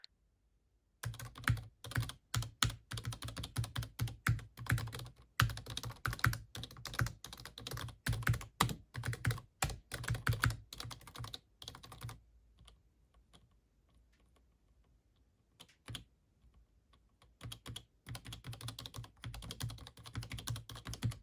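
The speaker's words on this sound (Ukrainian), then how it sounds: "Клавіатура звучить у нас так." Close, soft clicking of an AJAZZ AKP815 low-profile mechanical keyboard: bursts of quick typing broken by short pauses, quiet and muted, with no voices.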